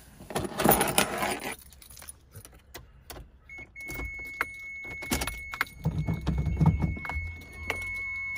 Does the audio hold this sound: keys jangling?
yes